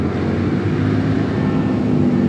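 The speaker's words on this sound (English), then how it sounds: "if you guys are hearing a lot of motorcycles, it's because there's traffic behind me" A continuous low engine rumble of passing road traffic and motorcycles behind a beach, steady and fairly loud, with a busy droning hum and no voices.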